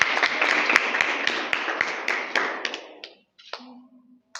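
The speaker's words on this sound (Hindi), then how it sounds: "जोरदार तालियां बजा" Clapping from a group at a free self-defence training camp at an academy, brisk and moderately loud, thinning out after a few seconds into scattered last claps and a brief low hum.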